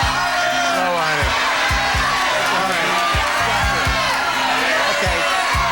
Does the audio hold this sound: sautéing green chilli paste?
no